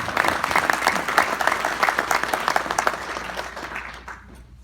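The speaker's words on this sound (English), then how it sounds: "Give her applause." Audience applause at an award ceremony, dense clapping of many hands that holds steady for a few seconds and then thins and fades out.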